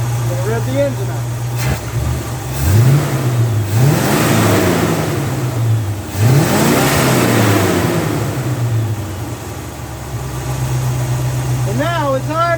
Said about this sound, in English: Rev the engine up.